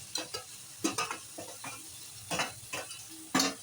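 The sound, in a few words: marinated chicken mince added to pan with onion and tomato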